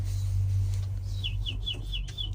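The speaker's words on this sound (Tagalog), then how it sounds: "Narinig yung mga ipunin ng ibon." A chick peeps in a quick run of about five short, high chirps over a steady low hum, fairly close and alone.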